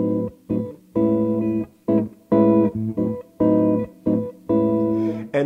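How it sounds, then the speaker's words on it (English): A diminished chord pattern plays as a song intro, a series of sustained harmonic chords struck in short bursts with brief gaps between them, clear and close with no talking. "it starts with a diminished chord pattern that"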